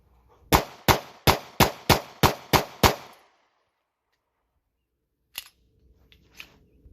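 Eight sharp handgun shots crack out in quick, evenly spaced succession during defensive target practice, loud and close, followed by silence and a few faint handling clicks.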